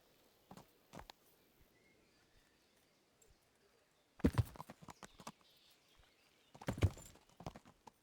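Horse hooves in the medieval video game Kingdom Come: Deliverance, two brief clusters of clip-clop steps, loud and close, separated by quieter stretches of ambient background.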